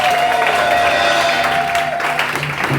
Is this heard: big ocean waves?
no